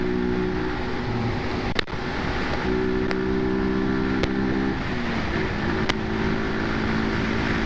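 A Brixton Rayburn motorcycle on a short test run, its engine humming with shifting steady tones under wind rush, with a few sharp clicks or knocks scattered through.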